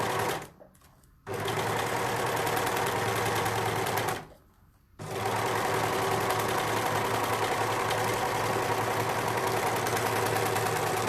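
An overlocker stitches a rolled hem through several fabric layers, running at a steady high-speed whir for about eleven seconds, stopping briefly twice before starting again.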